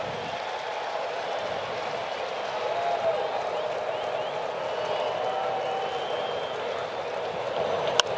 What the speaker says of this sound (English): Crowd knows it too. They're starting to respond.